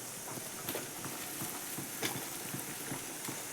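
Sajjige, a semolina dish, frying in a pan in a village kitchen: soft continuous sizzling with scattered clicks and scraping taps of stirring, fairly quiet and close.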